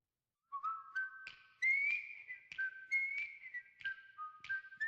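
A whistled rendition of The Andy Griffith Show opening theme, a clear melodic tune in sustained and gliding notes with short pauses between phrases, loud and close with no speech.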